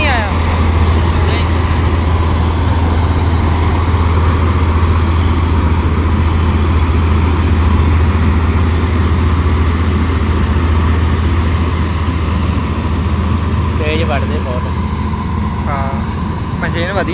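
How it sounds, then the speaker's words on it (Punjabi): A farm vehicle engine idling with a steady low rumble and hum running throughout, while people talk nearby over it. "ਵਧੀਆ ਇੰਜਨ ਉਂਜਨ ਚੰਗਾ, ਆਵਾਜ਼ ਵਧੀਆ ਬਹੁਤ ਇਹਦੀ"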